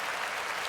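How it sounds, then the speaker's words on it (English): Applause for a Dwight Clark Award winner, a dense, even wash of clapping from a crowd, moderately faint and steady for a brief moment. "Round of applause to Demo,"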